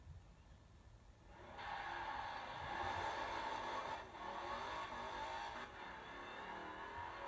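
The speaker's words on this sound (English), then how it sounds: "A Dodge Challenger Hellcat." A Dodge Challenger Hellcat revs in Forza Horizon 4, its engine roar swelling suddenly after a quiet start and holding a rough, sustained drone with slight dips, fairly faint overall.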